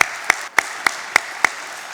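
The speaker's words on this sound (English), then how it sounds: "Let's have a round of applause for South Shore" Applause for a sponsor, South Shore Bank, at a chamber of commerce annual meeting: a rhythmic run of six loud, sharp claps in an even beat over a light background of clapping.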